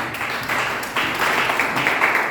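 A church congregation claps together after an Indonesian sermon, a steady wash of moderate applause that swells slightly partway through and carries on evenly.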